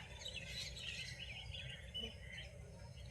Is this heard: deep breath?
no